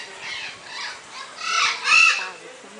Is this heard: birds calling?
yes